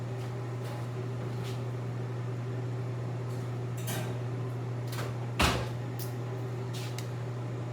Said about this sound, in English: So we're going to put this in the oven.